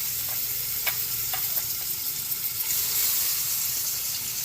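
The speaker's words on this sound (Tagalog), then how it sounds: "Lagyan na natin yung bawang." Garlic sizzling in hot cooking oil in a home kitchen pan, a steady bright frying hiss with a few clicks of stirring, close and alone without talk.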